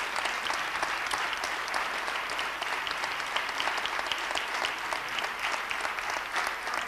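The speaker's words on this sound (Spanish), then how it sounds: "palmas a compás para este público entrañable que tenemos aquí en el teatro." A theatre audience at an international flamenco competition claps in time, a soft, even, sustained burst of applause heard from a distance with no pause.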